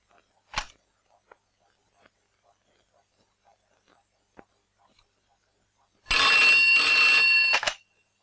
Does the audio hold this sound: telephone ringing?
yes